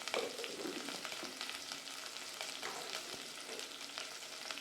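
Small onions, dried red chillies and curry leaves frying in a pan for a Kongu-style mutton fry, giving a steady close crackle and sizzle with faint stirring scrapes throughout, no talk.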